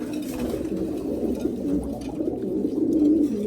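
Steady low cooing from a pair of 72-strain loft pigeons, several birds overlapping in a continuous warbling drone up close.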